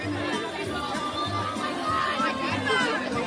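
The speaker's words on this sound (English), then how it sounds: "People are yelling, go chicken." Crowd at a high school chicken poop bingo event yelling and cheering on a chicken, a dense, loud babble of many voices shouting together.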